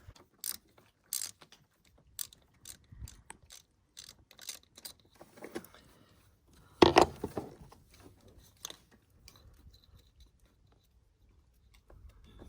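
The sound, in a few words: ratchet removing Torx screw from Jeep sensor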